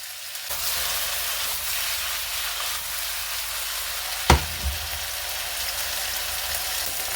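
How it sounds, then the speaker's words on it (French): Chanterelle mushrooms and onions frying in a pan, a steady soft sizzle throughout with a single sharp clatter partway through, no voices. "J'ajoute mes girolles et je vais les faire revenir environ 2 à 3 minutes en les retournant régulièrement"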